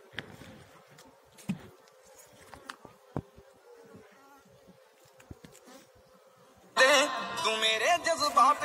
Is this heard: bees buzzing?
yes